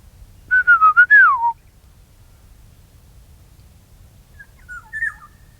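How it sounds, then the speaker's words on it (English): Black-chested oriole calling on St John's or Lazarus Island, Singapore: a clear, fluting whistled phrase of several quick notes, then a fainter, shorter call a few seconds later in a quiet outdoor setting. "there's one of the black-chested oriole, one of my favourite birds. Beautiful yellow colour."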